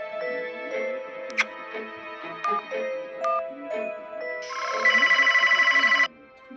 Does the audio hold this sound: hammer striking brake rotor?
no